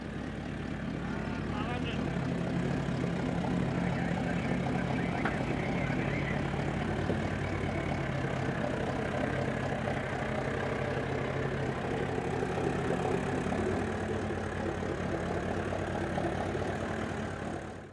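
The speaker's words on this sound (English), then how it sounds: "this is a great demonstration for you guys so you can see the benefits of a diesel engine in low range just idling up a hill" An off-road vehicle's diesel engine idles in low range while crawling up a hill on a coastal expedition, a steady low rumbling drone that holds constant, close and moderately loud, for the whole stretch.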